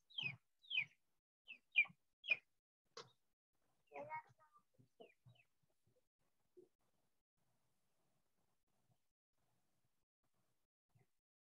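Sharp, close clucks and squawks from chickens in a quick burst, then scattered softer clucks trailing off into near silence.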